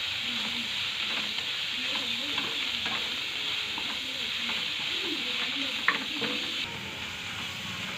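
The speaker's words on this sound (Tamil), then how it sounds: "இப்போ வெங்காயம் நல்லா வதங்கிடுச்சு." Chopped onions fry in oil for vermicelli khichdi, giving a steady close sizzle with repeated scraping stirs of a spoon against the pan.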